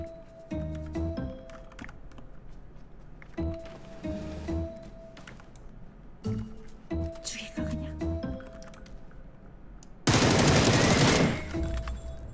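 Rapid bursts of automatic gunfire in an online shooter match, several separate volleys, then one long loud sustained stretch near the end, with game effects between them.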